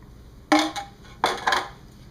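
Dry paper towel rubbing a hot cast iron pan, heard as two short bursts of scraping, rustling friction about a second apart, fairly close and moderately loud, with no talking.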